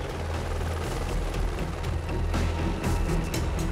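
Rescue helicopter hovering close to a power line above a swelling mudflow, its rotor thumping and engine roaring loudly and continuously, with gusting wind noise throughout and no voices.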